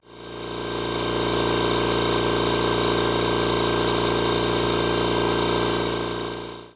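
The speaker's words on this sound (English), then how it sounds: "let the electric pump do its work" A steady mechanical drone of an electric pump motor inflating a boat at a loch shore, running continuously at close range, loud and unchanging throughout, with no voices.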